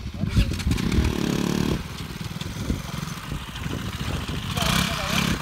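Pulsar NS 200 and KTM Duke 200 motorcycles idle and rev close by before a drag race. The engines rumble with uneven throttle blips while riders talk over them.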